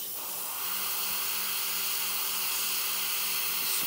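A steady, continuous hiss of an airbrush spraying paint onto a 1/48 scale F-35A model kit, with a faint low hum underneath, holding at an even level for a few seconds.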